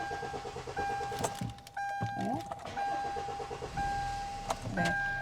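A Kia K5 2.0 LPI gas-fuelled car, a used model, is cranked in an attempt to start it, with several short whirring turns and electronic chimes and beeps. A person talks over the sounds nearby.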